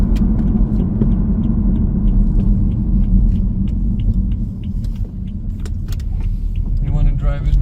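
A BMW 3 Series with a freshly rebuilt engine is driven, with a steady loud low rumble of engine and road noise inside the cabin, a few faint clicks and rattles, and people talking briefly near the end.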